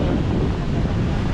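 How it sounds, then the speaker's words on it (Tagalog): Strong ocean waves break at a beach in Baler, Philippines, a brief, loud, broadband surf roar mixed with heavy wind buffeting on the microphone. "Lakas ng alon no."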